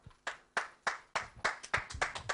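Scattered claps from a small group at an outdoor broadcast event, nine or ten distinct loud hand claps in an irregular rhythm, close by and alone with no talk.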